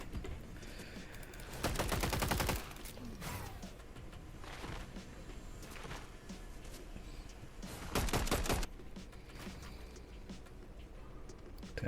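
Fortnite match gunfire: two bursts of rapid shots, loud and close, around the two- and eight-second marks, with quieter scattered game noise and faint shots in between.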